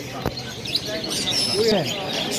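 Small caged birds at the Mirpur 1 bird market chirp and tweet in quick scattered calls over a busy crowd murmur, with voices talking nearby.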